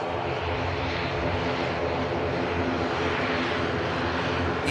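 An EgyptAir airliner on final approach to Manchester Airport makes a steady, loud, close engine drone that does not let up for the whole stretch.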